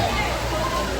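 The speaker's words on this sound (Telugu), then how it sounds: "వాటర్ ఫాల్స్ 1కి వచ్చేసాము." A waterfall pours in a steady, loud, broadband rush at Aare falls in Tamil Nadu, continuous and close with no break.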